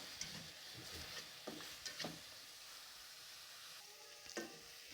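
Tomatoes and onion sauté in a pan for a capsicum onion gravy, giving a steady soft sizzle. Several scraping stirs come through, and one stronger clatter lands near the end.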